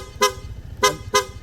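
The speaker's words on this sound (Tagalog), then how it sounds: "Palit sa PIA horn," An aftermarket PIA horn fitted to a Honda ADV160 scooter gives three short, loud, bright toots: one beep, a pause, then two quick beeps close together.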